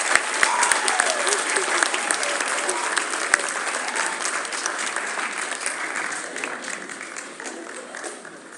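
Audience applause at a 9th–12th grade vocal concert, sustained dense clapping from a crowd that stays steady and gradually fades, with a few sharper claps standing out near the start.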